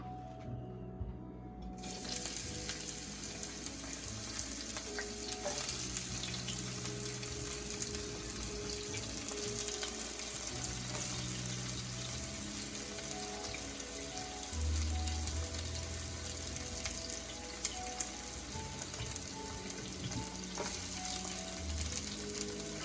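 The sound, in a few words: onions frying in a pan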